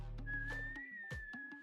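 A person whistles a steady sustained tone, close and soft, with faint clicks and low background noise around it.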